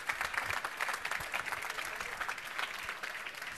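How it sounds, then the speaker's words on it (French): Steady applause from an audience at a French public-works awards ceremony, a dense continuous patter of many hands that holds at an even, moderate level without any voices. "On applaudit."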